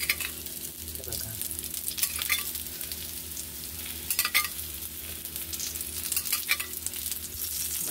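Alu vadi, rolled colocasia leaves, shallow-fry in oil with a lively close sizzle and crackle, with occasional louder spits and stirring scrapes over a faint low hum.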